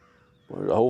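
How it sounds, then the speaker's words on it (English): A single loud, hoarse caw from a flock of crows breaks in halfway through, close and abrupt after near silence, heard outdoors on the water during a kayak catfishing trip. "There's the crows over there. Y'all hear them crows?"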